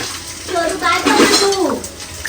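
Fish being rinsed under running water at a home kitchen sink, with splashing and clinking of a dish, close and fairly loud, while people talk in Marathi.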